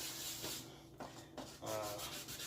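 Wet sanding a clear RC car window, a Redcat Racing Gen 8 Scout II, with 1200 grit sandpaper: steady close rubbing strokes in short bursts with brief pauses between them.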